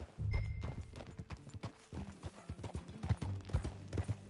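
Horse hooves clip-clop in a rhythmic trot in the video game Red Dead Redemption 2, close and distinct, with low rumbling movement underneath and a faint tonal whine briefly above.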